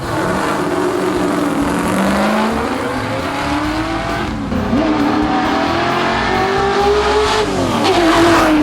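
Classic cars race on blocked-off city streets at the Geelong Revival, with loud engines revving and accelerating continuously and rising and falling pitch as they pass close by, plus a brief tire squeal.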